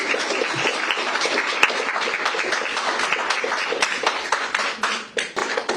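An audience at a community business meeting breaks into loud, sustained applause, many hands clapping densely and close, fading slightly near the end.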